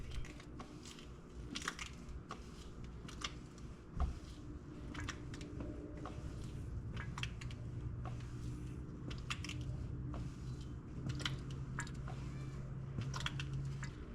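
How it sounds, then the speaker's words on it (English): A hand pump pushes differential fluid through a hose into the fill hole of a Toyota Tundra, giving a steady run of soft squishing, squelching strokes close by with small clicks, and no talking. "we'll slowly start pumping fluid in until we get fluid flowing back out"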